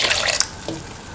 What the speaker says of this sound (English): Now pour in 250 ml of coconut